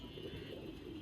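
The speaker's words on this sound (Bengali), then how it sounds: "এটা একটা মাদি কবুতর, খুবই সুন্দর একটা কবুতর মাদি" A female racing pigeon, arrived from a six-side tournament in Mirpur, gives a soft low coo, faint and brief against quiet background murmur.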